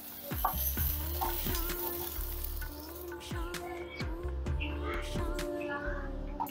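Chunks of young jackfruit fry in oil in a pan, with a steady sizzle broken by repeated scraping stirs of a spatula and a faint low hum underneath.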